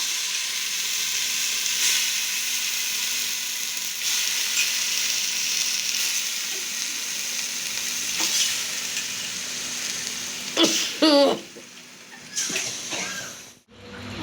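Chicken pieces hit a hot pan for a chicken kurma and sizzle steadily with a loud frying hiss, joined near the end by a few clattering stirs of a spoon against the pan.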